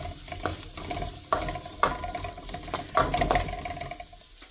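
Chopped onion tipped into a pan of ginger garlic paste in oil for a restaurant-style chicken lollipop sauce, giving a sizzle with sharp stirring scrapes and clatters at irregular intervals, close and fairly loud.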